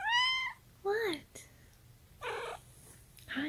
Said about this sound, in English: Here comes the kitty cat.